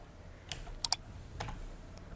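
A few sharp computer keyboard keystrokes, close and crisp, tapping out a short entry in an irregular rhythm over a quiet room background.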